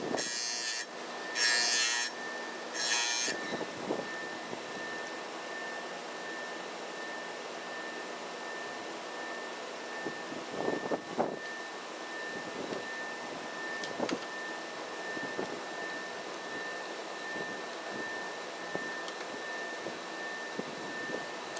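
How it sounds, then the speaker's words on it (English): A chainsaw sharpening grinder with a spinning disc grinds chain teeth one by one, with short bright rasping bursts over a steady motor whine, followed by quieter handling sounds and no speech. "Now grind each tooth facing in that direction."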